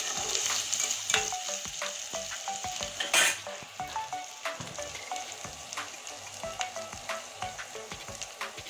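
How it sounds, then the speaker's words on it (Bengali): Potatoes and onions frying together in a pan, a soft continuous sizzle broken by frequent sharp taps and scrapes of a spoon stirring against the metal. "এই দেখুন আলু আর পেঁয়াজ একসঙ্গে কষিয়ে নিয়েছি।"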